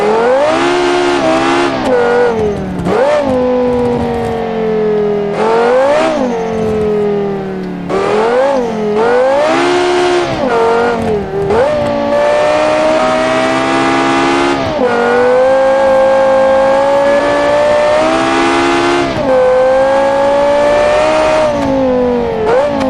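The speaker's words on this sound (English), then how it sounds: "Definitely sounds like a lower tier Ferrari." A custom-built car engine, designed in Automation and driven in the BeamNG driving game, revs loudly with a high, Ferrari-like wail, climbing through gears with repeated upshifts and brief dips, sustained close and continuous with no talk.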